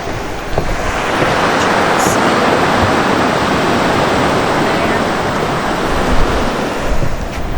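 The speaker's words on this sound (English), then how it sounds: "Looks like a pretty rocky beach, but we'll see what we see down there." Waves wash continuously onto a rocky beach, a broad, loud roar of surf mixed with wind buffeting the microphone, steady throughout with no talk.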